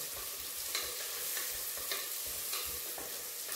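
Onion, ginger, garlic, cumin and green chilies frying in a pan, with a soft steady sizzle and regular spatula strokes repeating roughly every half second, close and quiet, no talking.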